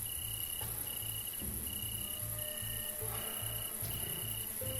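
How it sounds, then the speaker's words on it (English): Loud, steady cricket chirping in repeated pulses from the video game Zomborg, with a low rhythmic hum pulsing beneath it throughout. "These crickets are super loud."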